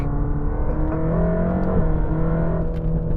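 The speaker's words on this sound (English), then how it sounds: "the engine definitely sounds different with that flat plane crank and the different firing order." A Mercedes-AMG GT Black Series engine with a flat-plane crank runs steadily with a rich, buzzing exhaust note, holding revs with slight rises and falls, close and continuous with no talking.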